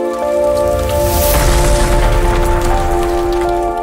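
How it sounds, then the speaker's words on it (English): Dense hail pelts down in a steady, loud roar, like a heavy downpour on hard surfaces, with a low sustained tonal drone running underneath throughout. "And then those hail."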